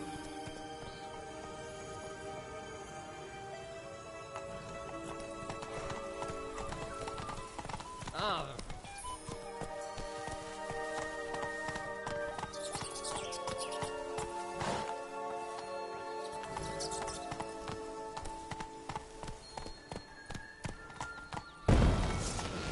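The horse Roach trots along in a video game, a steady rhythmic clip-clop of hooves under a bed of musical score, with people talking over parts of it and a loud thump near the end.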